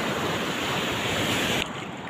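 Ocean surf breaking on a shore where fishermen net fish, a steady loud wash of waves and wind with no talk, easing slightly near the end.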